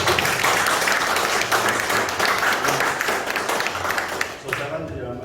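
An audience at an on-site mediation meeting applauds the staff: a short burst of dense clapping for roughly four seconds that fades out at the end.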